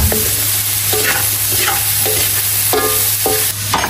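Carabao meat for dinuguan, seasoned with salt and pepper, is stirred in a hot pan, making a loud, close sizzle with repeated scraping strokes of a spoon in a steady rhythm.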